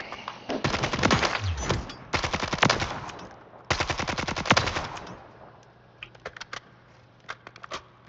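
Rapid bursts of 545 SMG fire in the video game Warzone, several long automatic strings with brief pauses, then a few scattered single shots fading out.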